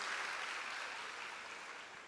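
Faint, steady applause from a church congregation, with dense clapping heard from a distance and sustained evenly through the short moment.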